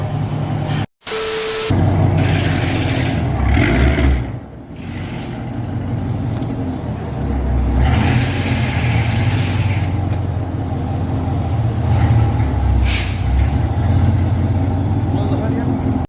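A 2018 Camaro SS running an E85 tune rumbles through a test drive, its engine note rising and falling under steady talking and wind noise.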